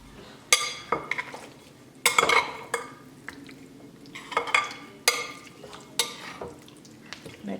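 A spoon stirs chicken pieces coated in buttermilk, salt and pepper in a bowl, giving irregular clinks and wet squelching knocks against the dish, close and distinct with short pauses between strokes.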